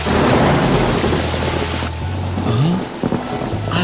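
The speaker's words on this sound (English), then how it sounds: "The sound of thunder and lightning kept him awake." Heavy rain pours steadily while deep thunder rumbles loudly, fading slightly before the downpour swells again.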